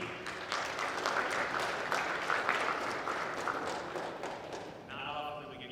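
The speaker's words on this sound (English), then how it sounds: "Not often we get clapping for prayer" An audience at a school chapel service applauds after a prayer, a sustained patter of many hands heard from a middle distance that fades out near the end.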